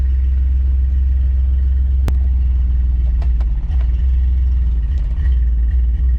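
A Chevrolet Blazer engine idles with a deep steady rumble, broken by occasional sharp ticks and stumbles from a misfire, close and constant.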